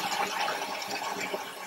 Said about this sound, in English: I'm going to fill it up with preferably warm water